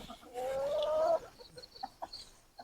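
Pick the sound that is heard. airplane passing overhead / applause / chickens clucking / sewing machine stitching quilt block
chickens clucking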